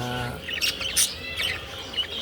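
A few short, bright chirps from small birds, fairly close, in a quiet room with faint background hum.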